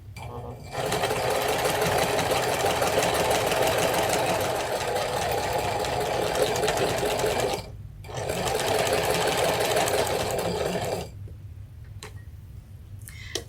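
A sewing machine stitches the side seam of a quilted cathedral windows tote, running in a steady whirring buzz with a brief pause midway, then stopping and leaving a faint quiet tail.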